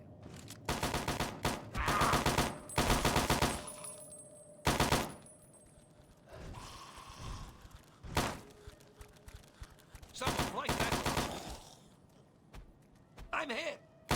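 Bursts of rapid automatic gunfire and single heavy shots in the video game Fallout, loud and close, coming in clusters separated by short pauses.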